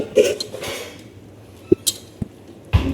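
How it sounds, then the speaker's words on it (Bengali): A metal lid goes onto a cooking pot of simmering goat meat and potatoes, giving a handful of sharp, close clanks and clinks spread over a few seconds. "তো আবারও ঢাকনা দিয়ে ঢেকে দিলাম।"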